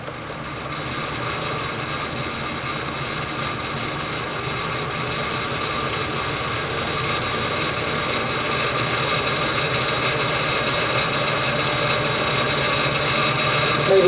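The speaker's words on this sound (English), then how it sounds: "Lathe, I'm going to run it at around 400 or 500 RPMs to start off with." A wood lathe spins at around 400 to 500 RPM while turning a vase, producing a constant, even motor hum that grows slightly louder toward the end.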